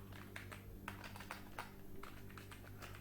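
Typing on a computer keyboard at a desk, quick irregular clicks in short bursts, close but quiet, with no speech.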